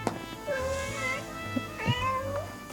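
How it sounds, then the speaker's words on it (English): Cat meows from a cat mobile game app on an iPad, two drawn-out electronic meows close by, alone without talk. "I don't really like the meowing it's doing"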